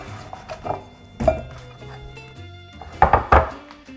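Knife chopping potatoes into chunks on a cutting board, a few scattered dull thunks with a quick cluster of cuts near the end, close and moderately loud with no talking.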